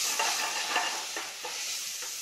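A spatula stirs chili-powder-seasoned food in an oiled pan, soft repeated scrapes over a steady close frying hiss.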